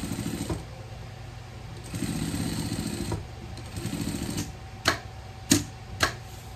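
Sewing machine fitted with a Teflon presser foot, stitching material for a vest, running in several bursts of steady mechanical whirring, followed by a few sharp clicks near the end.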